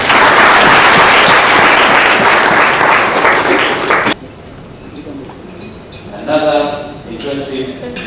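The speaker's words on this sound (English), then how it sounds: "Can we give another round of applause to FSI?" Audience at a Makerere University scholarship celebration ceremony breaks into loud, dense applause for about four seconds, then it cuts off abruptly, leaving quieter room sound and brief murmuring voices.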